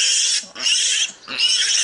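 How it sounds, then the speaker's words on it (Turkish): A wild boar piglet caught during a boar hunt in Kastamonu squeals loudly and close in three shrill, sustained cries separated by brief pauses. "Biz büyük domuz beklerken yavru domuz çıktı karşımıza."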